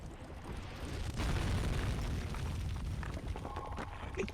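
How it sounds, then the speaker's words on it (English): An explosion in the Minecraft game builds into a dense, sustained low rumble that swells and holds for several seconds, loud and continuous, with no voices. "I just hear an explosion"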